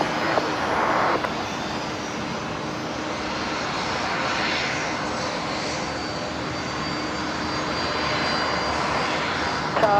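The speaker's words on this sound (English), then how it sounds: "just about to touch down here, coming in from Melbourne" A passenger airliner arriving from Melbourne roars loudly and continuously as it comes in to touch down on runway 01 left at Brisbane Airport, a steady broad engine rumble with no voices.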